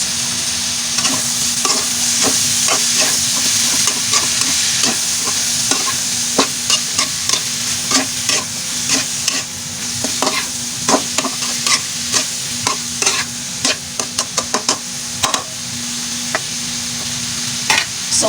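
Pancit bato noodles and vegetables stir-fried for pancit bato guisado, a steady loud sizzle with frequent sharp scrapes and clacks of a utensil against the pan throughout, no talking.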